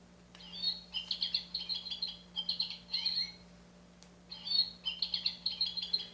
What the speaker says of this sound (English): It makes a realistic goldfinch sound